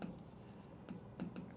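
Pen scratching on paper while math is worked out by hand, soft irregular strokes and taps, close and quiet with no talk.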